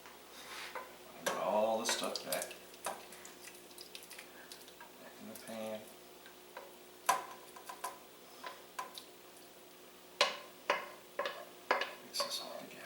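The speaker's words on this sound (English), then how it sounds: "Put all the stuff back in the pan." Chowder ingredients being stirred in a pan, with a spoon repeatedly clinking and scraping against the metal in irregular taps and knocks, close and moderately loud, plus a brief murmured voice early on.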